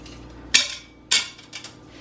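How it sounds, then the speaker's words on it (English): A metal trivet tray clanks into an Instant Pot insert holding a little water, giving two sharp metallic knocks followed by a few lighter taps, close and clear with no talking. "and I'm gonna put a tray."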